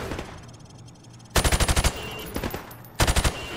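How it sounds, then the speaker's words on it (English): Automatic gunfire from Call of Duty Warzone shooting at targets through plywood, two loud rapid bursts of about eight shots each plus a shorter burst, separated by quiet gaps. "I want you to shoot the targets through the wood."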